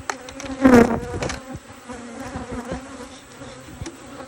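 Steady buzzing of honey bees close by, a low droning hum with a louder pass early on, then a continuous insect drone.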